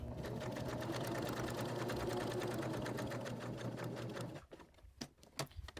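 A sewing machine runs a steady straight stitch around a journal cover, a fast even whirring chatter for about four seconds before stopping, followed by a few light clicks and handling knocks, close up and fairly quiet.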